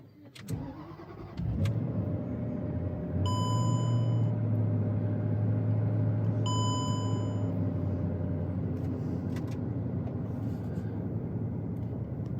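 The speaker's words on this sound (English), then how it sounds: "watch what happens when I start the engine with the MAF unplugged" A car engine cranks and fires with its MAF sensor unplugged, then settles into a steady, close idle with a faint high electronic whine coming and going above the running engine; no talk.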